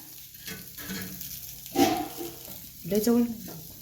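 Fish frying in a pan, browned on both sides, gives a steady close sizzle that swells as pieces are moved, while someone talks over it.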